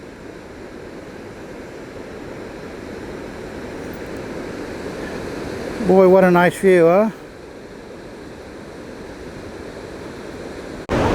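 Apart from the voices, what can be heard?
small waterfalls at Valley Falls State Park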